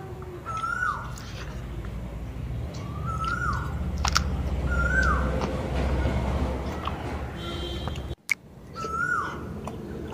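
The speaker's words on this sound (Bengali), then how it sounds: "দূরে কাছ থেকে কোকিলের ডাক আসছে" An Asian koel calls repeatedly, its rising two-note cries recurring every couple of seconds, some near and some farther off, over a steady low rural background hum.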